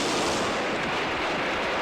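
Gunfire in an Urdu drama, a loud continuous roar of firing with no clear gaps between shots, filling the whole moment without any talk over it.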